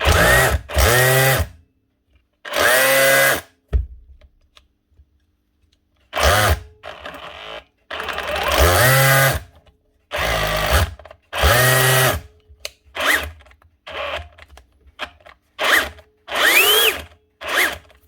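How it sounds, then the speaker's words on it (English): Cordless SDS drill on a repair bench, running in repeated bursts of a second or two with short pauses between, loud and close, its whine rising and falling in pitch as it spins up and down. "Probably one of the most popular cordless SDS drills there is."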